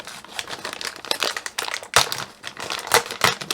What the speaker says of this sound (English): they just come in this box inside a plastic bag.